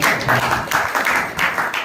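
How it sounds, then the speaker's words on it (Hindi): Brief burst of audience applause, many hands clapping together in a dense, fluttering wash that rises and dips over about two seconds. "तो एक बार जोरदार ताली हो जाए हमारी।"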